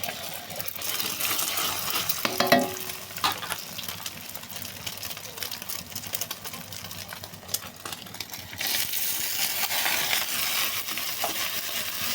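Steady sizzling crackle of eggs and sponge gourd stir-frying in a hot pan over medium-low gas heat, with occasional clinks and stirring scrapes, fairly close and continuous.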